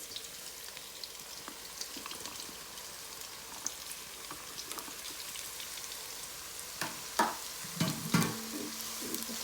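Garlic and ginger fry in a pan for a bindi chicken masala, a steady soft sizzle running throughout with a few louder crackles and spatters near the end.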